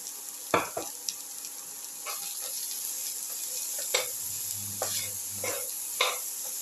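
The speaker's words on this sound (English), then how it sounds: "Keep on sauteing. Put in the onion pieces." Onion pieces sauteing with ginger and tomato in a pan, a soft steady sizzle broken by several sharp stirring scrapes and clanks of a utensil, with a faint running-water sound in the background.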